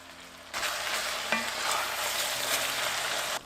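Ground pork and beef frying with onions in a pan, a sudden loud sizzle bursts in as the meat hits the hot pan, then holds as a dense steady hiss before cutting off.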